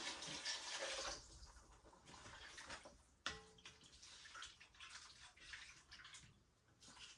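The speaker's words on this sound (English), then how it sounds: "I'm gonna add 2 cups of water." Water pours from a container into a pot of stew, a splashing liquid rush that fades after the first second, followed by quieter sloshing and a sharp clink partway through.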